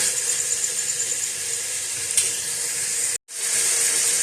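Beef sizzles and fries in a pot for yakhni pulao, a loud, steady hiss that cuts out abruptly for a moment near the end before resuming.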